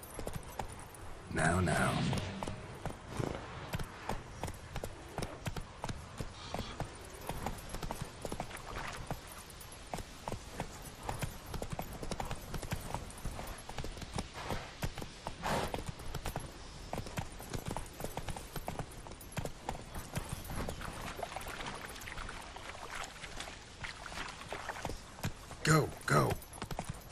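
Roach the horse in The Witcher 3 clip-clops along steadily, close hoofbeats continuing under intermittent talking, with a few louder bursts of game noise near the start and end.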